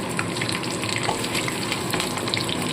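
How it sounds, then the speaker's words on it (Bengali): Cumin seeds tempering in hot oil left from frying chicken make a dense, even crackling sizzle, close and steady throughout with small popping bursts. "এবার এই তেলের মধ্যে দিয়ে দেবো জিরে ফোড়ন দিয়ে দিচ্ছি জিরে ফোড়ন"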